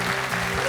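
Studio audience applauding a quiz show winner at the end of a head-to-head final, a dense, steady wash of clapping filling the whole short moment.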